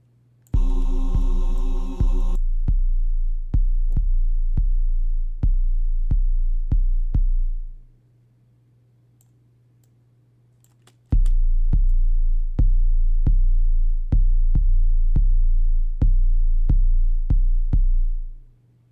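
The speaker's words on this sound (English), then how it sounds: "Oh, that's an 808. That is this poor 808. It needs saturation." Deep 808 bass hits in a hip-hop beat rebuilt from stems, a run of evenly spaced booming notes with a tonal tail, dropping out for a few seconds before the pattern returns loud and clean.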